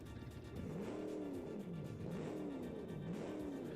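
A simulated car engine in the BeamNG driving game, a community mod with a double overhead cam, revs up and down in repeated rising and falling sweeps, faint and steady with no talk.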